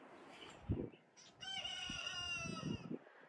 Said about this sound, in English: there's the rooster to greet us.